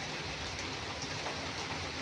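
Steady rain falls continuously, a dense even hiss of drops on surfaces, close and unbroken for the whole stretch with no voices.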